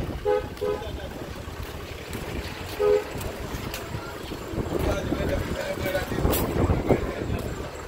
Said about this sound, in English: it's so windy, as you can see.